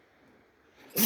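A single sharp sneeze bursts out near the end after near-silence, brief and close.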